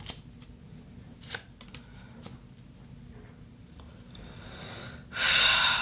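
Tarot cards are handled and shuffled in a quiet room, soft intermittent papery riffles and taps, with a louder burst of rustling near the end.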